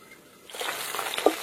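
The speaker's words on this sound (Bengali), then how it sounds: "এবার আমি মাছগুলো ভেজে নেবো।" Bata fish sliding into hot oil in a kitchen pan, a quiet start giving way to a steady close-up sizzle with a brief clink of utensil near the end.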